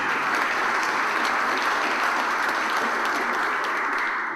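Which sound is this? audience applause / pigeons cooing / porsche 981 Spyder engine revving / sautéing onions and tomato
audience applause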